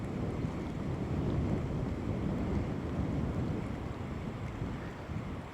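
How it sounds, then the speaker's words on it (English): Wind picks up outdoors by a backcountry lake in Glacier, a steady low rushing roar with buffeting against the microphone that continues unbroken throughout, with no voices. "The wind's definitely picking up."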